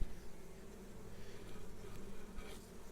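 Close, steady drone of many honey bees humming together in a hive, a continuous low buzz with slight fluctuations and no speech.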